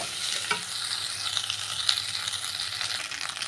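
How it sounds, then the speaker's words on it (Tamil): Cooked rice being stirred and mixed in a hot pan on the stove with coriander, mint and curry leaves, a close, continuous frying hiss broken by scraping stir strokes, with no voices. "நல்லா கிளறி விட்டுருங்க."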